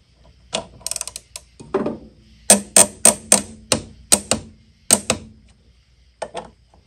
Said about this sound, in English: make sure you torque these two caliper mounting bolts to 40 newton meters